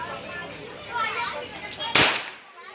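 A firecracker goes off outdoors, one sharp loud bang near the end after a few faint pops, with people's voices talking and calling in the background.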